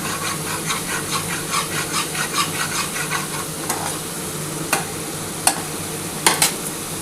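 Mustard paste dropped into a pan of well-cooked masala for a Bengali bhola fish jhal, giving a steady close sizzle with repeated stirring scrapes and a few sharp clinks of a spatula near the end.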